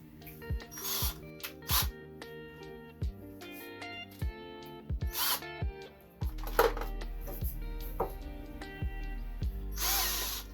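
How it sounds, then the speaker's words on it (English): A cordless power drill whirs in repeated short bursts while a toy is repaired, stopping and starting, with clanks and rattles between runs and a longer grinding spell near the end. "It's cool if I drill like this."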